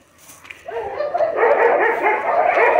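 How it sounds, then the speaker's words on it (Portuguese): Several dogs bark and yip along a residential street, close and loud, the barking starting after a brief quiet and building into a steady overlapping chorus. "Vamos sair daqui que as cachorradas vão começar a latir aí."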